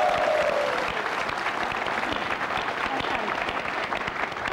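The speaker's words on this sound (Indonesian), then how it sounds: "Luar biasa. Tepuk tangan." A studio audience on an Indonesian news talk show breaks into steady, continuous applause, a dense wash of clapping that holds at an even level for several seconds, with a brief voice tone at the start.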